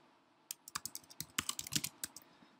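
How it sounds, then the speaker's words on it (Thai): Quick keystrokes clatter on a computer keyboard, a short uneven run of crisp taps close by in a quiet room. "แล้วก็พิมพ์ข้อมูลนะครับ"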